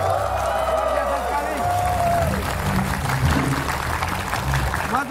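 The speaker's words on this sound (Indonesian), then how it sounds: "kalau kita tepuk tangan buat kalian semuanya yang sudah hadir di sini" Studio audience at an Indonesian TV talk show applauding the guests, a steady broad wash of clapping and crowd noise running throughout, with a host's voice speaking and singing-like tones over it at the start.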